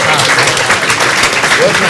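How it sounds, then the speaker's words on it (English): A crowd claps continuously in a dense, steady round of applause, fairly loud and close, with no pauses. "I think he deserves a round of applause anyway."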